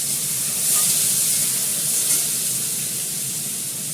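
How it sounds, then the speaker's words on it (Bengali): Potatoes fry with fenugreek greens in hot oil, giving a steady, close hiss and sizzle that holds level throughout, with no talking. "মেথি শাকটা দিয়ে আলুটাকে ভালো করে লাল করে ভেজে নিই।"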